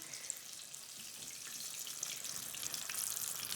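Tempura-battered chicken breast frying in a pot of hot oil, a faint, steady high-pitched hiss with scattered tiny crackles, quiet and even throughout.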